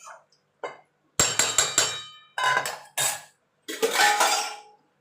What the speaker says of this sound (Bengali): আলুটা দিয়ে ভালো করে মশলার সঙ্গে মিশিয়ে নেব